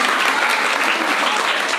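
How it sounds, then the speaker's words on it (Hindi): Schoolchildren at a Dehradun government school event clap together, loud, dense applause filling the short stretch without a break. "बहुत जोर से एक बार तालियां बजा दीजिए"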